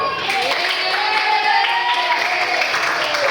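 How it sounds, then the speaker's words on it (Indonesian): A group claps together in a brief burst of applause, steady and fairly close, with some voices mixed in. "Tepuk tangan dulu."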